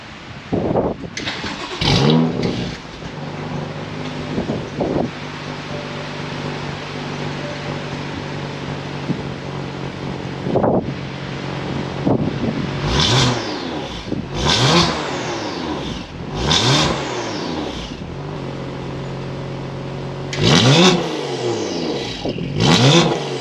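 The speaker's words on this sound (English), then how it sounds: "Can't wait to put the car down and fire it up." A BMW M2 Competition fitted with an Active Autowerke equal-length midpipe is started up close, then revved repeatedly in sharp bursts that rise and fall back to a steady idle between blips.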